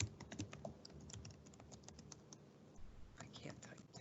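Keys clatter on a computer keyboard while entering data into an Excel spreadsheet, a faint, close, uneven run of taps with short pauses, and a soft whisper-like voice in the background.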